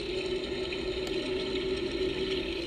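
A toy bathtub tap pours a steady electronic water sound, a continuous close rushing trickle with no talk over it.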